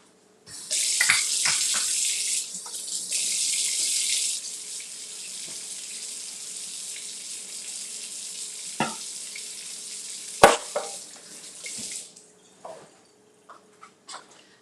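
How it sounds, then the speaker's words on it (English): Tap water runs steadily into a sink as hands are washed, a close, continuous rush with splashes and a few clinks, easing off near the end. "Let me wash my hands."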